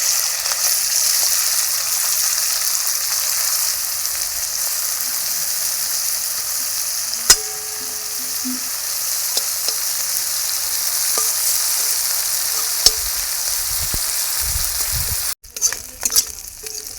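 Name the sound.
prawns frying in oil in a wok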